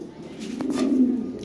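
A top-quality pair of toy Lahori pigeons gives a single soft, rolling coo up close, swelling slightly toward the middle before fading.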